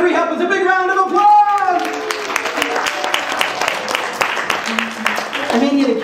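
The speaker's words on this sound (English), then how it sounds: "Let's give our three helpers a big round of applause!" Audience applause for three helpers at a Christmas magic show, sharp dense clapping from a crowd filling several seconds after a voice and under brief talk.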